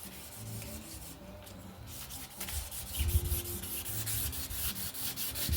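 Rust is rubbed off a 1959 Schwinn Tornado bicycle, producing steady scratchy scrubbing strokes that grow slightly louder midway, close up, with no talking.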